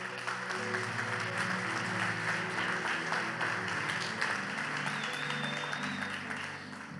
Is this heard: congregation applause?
yes